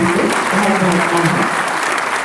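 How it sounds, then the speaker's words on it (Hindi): Loud, sustained applause from an audience at a nursing students' ceremony, dense clapping filling the whole span with a few voices mixed underneath. "एक बार जोरदार तालियों से धन्यवाद"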